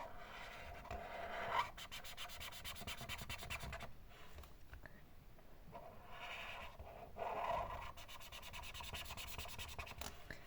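Drawing a burger bun on paper: soft, close scratching and rubbing strokes of a drawing tool, continuous with brief pauses and a couple of slightly louder strokes, quiet throughout.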